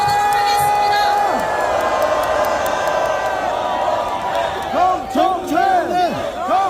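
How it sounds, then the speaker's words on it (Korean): A large crowd at a candlelight impeachment rally on the steps of the National Assembly cheers and shouts loudly and steadily, with rising whoops and chanting-like cries swelling near the end and some clapping mixed in. "큰 박수와 함성으로 모셔보도록 하겠습니다"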